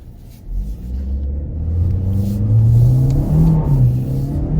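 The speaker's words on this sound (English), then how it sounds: "let's say I needed to step on it and get out into some traffic" A 2025 Chevy Equinox FWD with a CVT accelerating hard into traffic: a loud, close engine rumble that swells and holds a rising drone for several seconds, with no talking.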